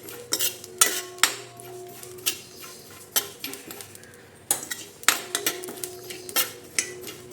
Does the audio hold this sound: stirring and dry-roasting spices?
yes